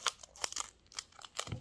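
Scissors cut through material while a canvas is prepared, giving several quick crisp snips and crinkles in an irregular rhythm, close and fairly quiet.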